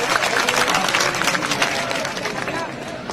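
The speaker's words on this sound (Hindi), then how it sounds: "जोरदार तालियां बजाकर मुख्यमंत्री जी का हम सब स्वागत करें" A crowd at a political rally in Morena applauds to welcome the chief minister, a loud burst of dense clapping with crowd noise and voices underneath that gradually fades over a few seconds.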